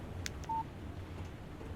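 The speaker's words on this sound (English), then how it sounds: "Text message from Barry" A short electronic text message alert sounds from a phone in the Alan Wake video game: a brief faint chirp followed by a single clean tone, quiet against a low background hum.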